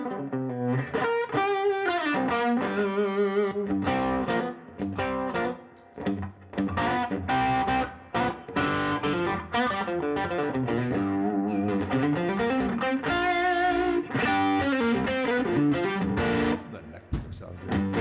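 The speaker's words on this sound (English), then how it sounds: "So I can keep that overdrive pedal on or the amp distortion on" Overdriven electric guitar on the neck pickup plays a melodic passage with chords and sustained notes, a gritty distorted tone from an overdrive pedal or amp distortion, loud and close throughout.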